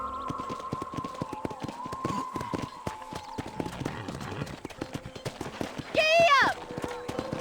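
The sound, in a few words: horse hooves trotting in video game Red Dead Redemption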